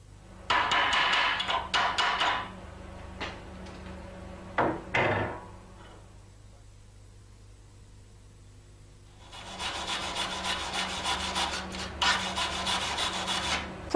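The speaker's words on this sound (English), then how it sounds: "Clean the tack welds," Tack welds on steel are cleaned before electrode welding, making bursts of harsh scraping and brushing with a quiet pause in between, then another stretch of rapid rubbing strokes.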